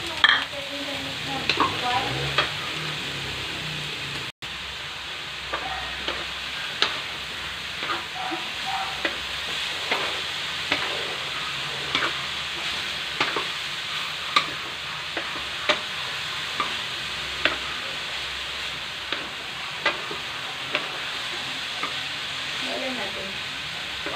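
Tofu fries in a pan for a toge filling, a steady close sizzle with repeated sharp clinks of a utensil stirring and scraping the pan.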